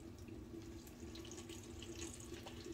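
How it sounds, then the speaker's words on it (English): Water runs steadily from a tap into a bowl of shaving soap lather, a continuous trickling hiss lasting the whole moment with no voices. "Third water addition, just a little bit."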